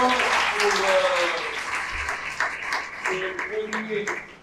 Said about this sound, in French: On peut applaudir très fort pour